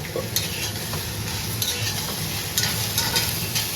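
Vegetables sauté with turmeric in oil, giving a continuous close sizzle with occasional light scraping stirs of a spoon in the pan.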